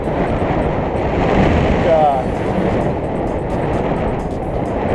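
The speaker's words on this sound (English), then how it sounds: "I like the Delta. It's neat, but that wind." Strong wind buffets the microphone on a Delta hiking trail, a loud, steady low roar that swells slightly mid-way and keeps rumbling throughout, with a voice faintly in the mix.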